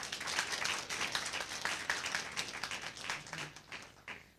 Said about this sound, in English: Another round of applause for the Synoville Richards Academy winning team for today's encounter.